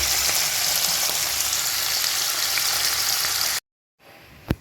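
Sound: paneer frying lightly in oil

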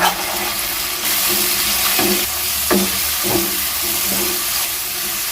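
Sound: stirring and frying masala for potol chingri curry

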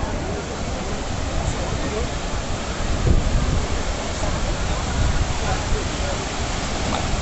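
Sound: sea surf at Praia do Forte beach, Cabo Frio

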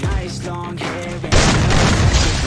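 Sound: gunshot in the video game Free Fire

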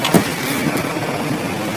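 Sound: Honda City car engine starting

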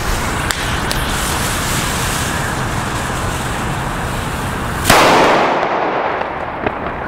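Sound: The King firecracker exploding

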